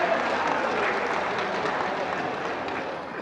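Sustained, steady applause from a large audience at a government programme, a dense wash of clapping that holds at an even, fairly loud level throughout.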